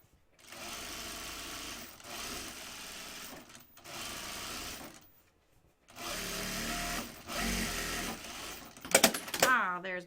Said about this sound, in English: we're going to sew around this edge, not the corner pieces, just the long perimeter edge at a 1/4 inch seam